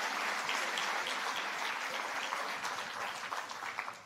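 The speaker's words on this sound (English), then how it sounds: "you must give some round of applause" Audience applause in a large hall during a keynote address at an infrastructure symposium, dense steady clapping from many hands throughout, fairly distant and even.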